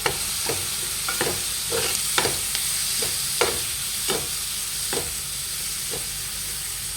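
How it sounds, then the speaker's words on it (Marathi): Onions and tomatoes frying in a pan for a spicy chicken fry, a constant close sizzle punctuated by regular scraping spatula strokes roughly every second, with no talking. "कांदे फ्राय झालेले त्याच्यात टोमॅटो टाकून घेऊया"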